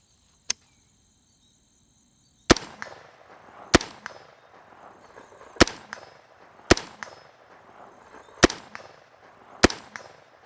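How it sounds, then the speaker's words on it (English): Rifle shots fired at a 100-yard steel ringer target: seven sharp, loud cracks at irregular intervals of one to two seconds, each followed by a short ringing decay and faint outdoor background noise, with no voices. "let's do some shooting at that 100-yard ringer"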